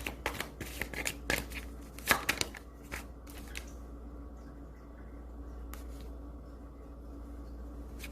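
Tarot cards are shuffled and drawn in a quick, close run of crisp riffling flicks and taps. The flicks fade into near silence with one later soft snap.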